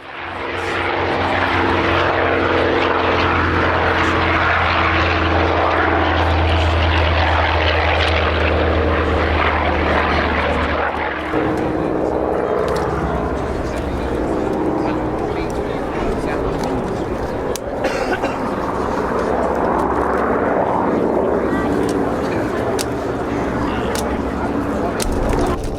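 A propeller-driven warplane roars past at the Sywell Airshow, loud and sustained as it passes and then recedes. Someone talks over the engine noise the whole time.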